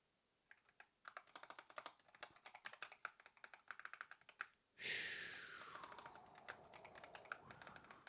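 A computer keyboard is typed on in quick, irregular bursts of close, crisp clicks, broken by a short pause, then a sudden hissing noise rises and the tapping continues beneath it.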